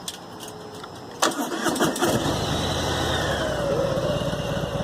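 A motorcycle engine cranks and catches after a second of clicking, then settles into a steady, close idle.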